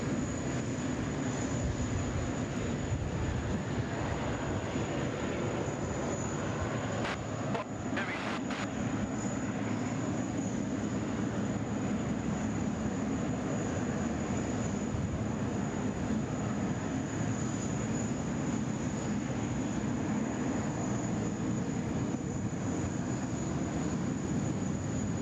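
A Korean Air Boeing 747 taxis at Sydney Airport, its jet engines giving a loud, steady roar with a broad rumble and a high whine that holds throughout, with no talk over it.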